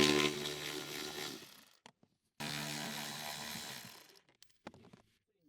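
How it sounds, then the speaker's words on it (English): Small electric impact wrench with an 8mm shallow socket spinning out blower mounting screws on a 2009-2014 Ford F-150, two loud close whirring bursts of about two seconds each, separated by brief silence and followed by faint handling clicks. "Use the small 8mm shallow socket with the small electric impact wrench."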